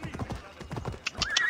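Hooves of a horse clip-clopping in the Assassin's Creed Odyssey video game, a quick run of close, rhythmic hoofbeats, with a voice talking over part of it.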